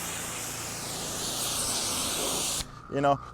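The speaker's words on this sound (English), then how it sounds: "instead of having your hose and you're rinsing away just with one hand, rinsing around" A garden hose sprays water steadily while rinsing a car, a loud continuous hiss that cuts off abruptly near the end, followed by a brief spoken voice.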